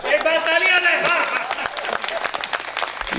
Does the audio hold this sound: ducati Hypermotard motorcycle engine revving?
no